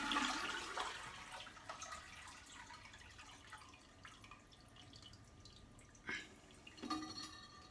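Water draining out of a toilet tank during a toilet valve replacement: a faint gurgling rush that fades into quiet trickles and a couple of soft splashes, heard close with no talking.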